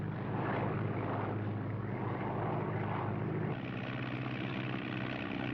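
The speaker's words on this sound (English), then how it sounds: "Maybe if we get close enough, you can tell Fibber how to land the plane" Steady, continuous drone of an airplane engine in flight, loud and unbroken throughout with a slight shift partway, no voices over it.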